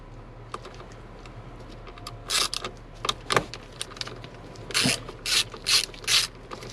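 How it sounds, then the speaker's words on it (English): Small ratchet backing out a T25 bolt under the steering column of a 1993 Ford F150 during shift tube replacement: bursts of rapid clicking pawl ratchets, close and fairly loud, with short pauses between strokes. "So we get our small ratchet. We take this off."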